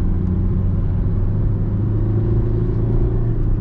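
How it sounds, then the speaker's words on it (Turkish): A Kia Rio engine runs noisily while driving on a mountain road, a steady loud low drone and rumble heard from inside the car. "Bak bu arada motor şu an çok gürültülü çalışıyor."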